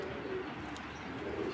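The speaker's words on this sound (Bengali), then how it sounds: "হেভি শক্তি কবুতরগুলো।" Racing pigeons, including grizzle and black checker birds, coo softly and continuously in a loft, a low murmuring warble that holds steady for a moment at fairly low volume with no talk.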